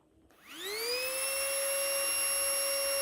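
A small wireless pump starts up to suck the air out of a POIXM travel vacuum bag. Its whine rises quickly in pitch and then holds as a steady, close, high electric hum.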